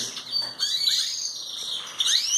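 Belgian canaries, young birds newly separated, give bright, high chirps and short warbling tweets, close and fairly loud, in a quick continuous run over a couple of seconds.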